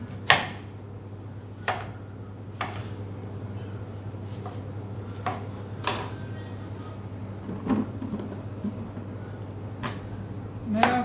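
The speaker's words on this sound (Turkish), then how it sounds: "keleklerimizi doğruyoruz" Unripe kelek melons being chopped for pickle with a knife on a board: about eight sharp, separate cuts spaced a second or two apart over a steady low kitchen hum.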